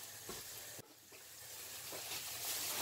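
Eggplant slices frying in oil give a steady, moderately close sizzle and crackle that builds slightly louder toward the end, with a few brief knocks and stirring sounds near the start.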